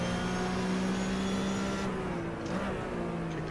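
Porsche 911 RSR race car engine pulling hard out of a tight second-gear left-hander at Barcelona, a loud, steady high-revving drone that climbs and holds close by with no talk.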